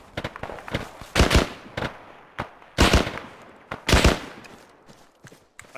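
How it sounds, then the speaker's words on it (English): Bursts of rapid gunfire from an airfield raid in the video game Arma 3 Antistasi, several loud volleys separated by short pauses, with scattered single shots in between. "I hear a whole lot of gunfire"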